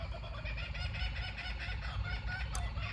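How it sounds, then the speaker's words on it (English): Wild birds call continuously in dense, overlapping cries with a fowl-like, clucking quality, close and lively throughout, with a brief sharp accent near the end. "You can hear the crazy birds here."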